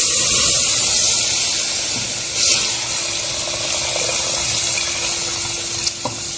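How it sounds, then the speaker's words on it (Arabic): Broth is poured onto toasted rice and two spoons of flour in a hot pot while cooking Egyptian kishk, giving a steady sizzling, hissing rush that swells briefly around the middle and settles into a continuous spray-like sizzle. "بعد ما شلوحت الرز مع معلقتين الدقيق هنزل عليهم بالشوربه"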